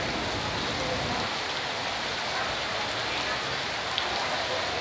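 Heavy rain falls steadily outside a district office, a dense, loud and unbroken hiss of downpour with no pauses.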